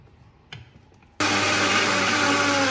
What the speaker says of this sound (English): I've got a super duper quick blender, so that will take around 20 seconds to make into a super smooth consistency.